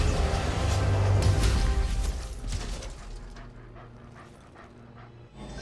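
Injured dog Lucky whimpering and panting in Marvel's Avengers, heard close and fairly loud under a dense game soundscape of music and effects, fading somewhat toward the end.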